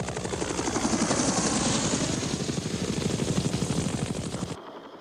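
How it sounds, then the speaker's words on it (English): A UH-1 Huey infantry transport helicopter in Vietnam-era footage, its rotor beating in a loud, rapid, steady chop over engine whine for several seconds before cutting off abruptly. "the basic infantry transport helicopter was the UH-1 Huey"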